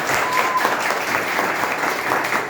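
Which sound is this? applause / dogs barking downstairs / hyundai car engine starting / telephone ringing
applause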